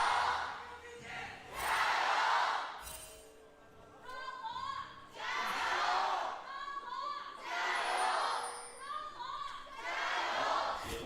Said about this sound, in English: Well, there's your crowd.